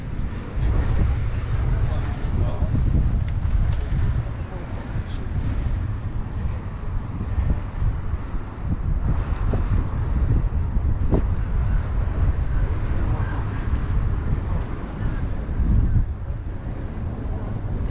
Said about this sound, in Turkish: güzel ama tabii biraz serin rüzgar da var.